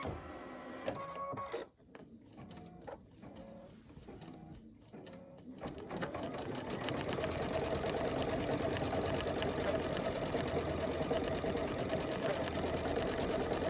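Luminaire or Solaris quilting machine sewing an edge-to-edge pattern: a few clicks and short motor bursts, then a continuous fast, rhythmic stitching whir that builds and holds steady, loud and close.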